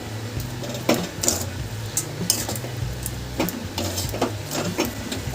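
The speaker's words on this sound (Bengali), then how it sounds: "এবার ভালো করে সব কিছু একসাথে মিশিয়ে একটু কিছুক্ষণ ধরে কষিয়ে নেব।" Methi chicken with fenugreek leaves being stirred and fried in a pan: steady scraping spoon strokes and occasional metallic knocks over a continuous close sizzle, with no talking.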